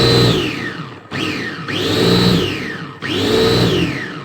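A manual push food chopper spins through vegetables, four quick whirring strokes in a row, each rising then sliding down in pitch, loud and close with no talk.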